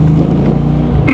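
A 1993 Ford Mustang GT convertible with a manual gearbox pulls away, its V8 engine a loud, close, steady low rumble that rises slightly in pitch near the end, with no talk.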